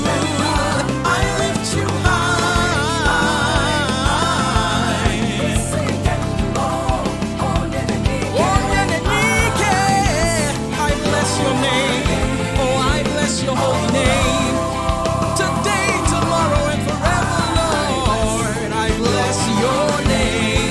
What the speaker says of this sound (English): let's listen to the mix and see what the bass is doing